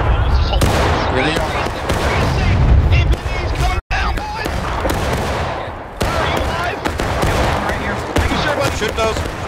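Civil War rifle fire in War of Rights at Burnside Bridge, a dense, loud crackle of many muskets going off near and far at once, with shouting voices mixed into the battle noise.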